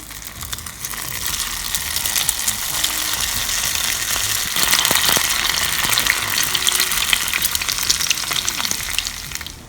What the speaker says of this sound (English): So I'm done with frying.